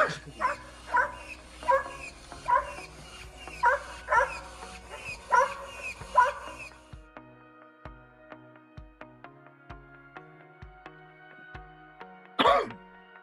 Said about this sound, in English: I heard that you are a robotic dog.